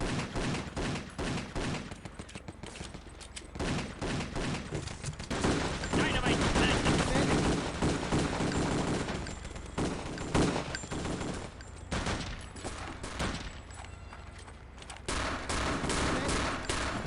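Gunfire in the World War II shooter Wolfenstein: Enemy Territory, with dense, sustained bursts of automatic and rifle shots crackling back and forth almost continuously, loud and busy, with brief lulls between volleys.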